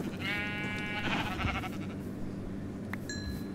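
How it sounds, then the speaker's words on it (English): Blocky Minecraft-style sheep bleat from the Tekkit Lite game, heard once as a wavering tone over game ambience, followed by short higher chimes. "I'm killing a sheep with a dead sheep in my hand."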